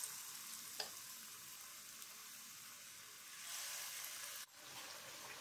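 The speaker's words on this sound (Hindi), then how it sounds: "अब पकौड़ियों को अच्छे से गोल्डन ब्राउन होने तक हम सेक लेंगे।" Pakoras frying in hot oil in a pan give a steady, fairly quiet hiss and sizzle, with one brief crackle and a small dip near the end.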